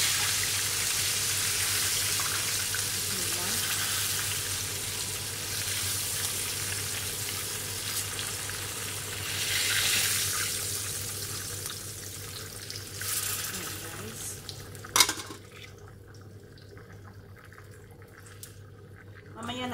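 Fish for marag samak sizzles in a pan, a steady close hiss of frying that swells and recedes, broken by a sharp clatter near the end as the sound drops away.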